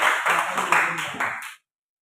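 Schoolchildren in an Indonesian classroom clap together in a quick, patterned burst of several claps lasting under two seconds, close and fairly loud, then stop abruptly into silence.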